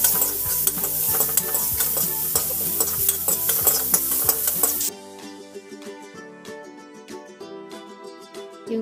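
Onion and cumin fry in hot ghee in a pan, loud and close, with a steady sizzle and repeated scraping of a stirring spoon; the sizzle drops to a quieter crackle partway through while the stirring clinks continue.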